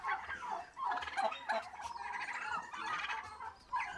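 Turkeys raised on a farm in Namakkal district gobble repeatedly in overlapping, rattling bursts, a busy chorus of several birds calling close by with no talk.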